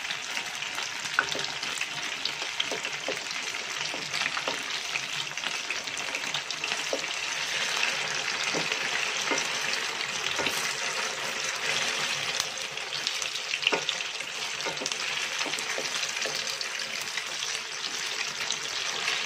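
Tofu (tokwa) fries in a pan for adobong kangkong, a soft, continuous sizzle with scattered clicks of stirring throughout, moderately quiet and steady, with no talking.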